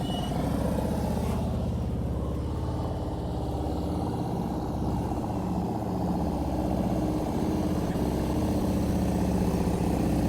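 A motorcycle engine runs with the throttle held high, a continuous buzzing drone at steady revs throughout, a little muffled and at a moderate distance, with no talk.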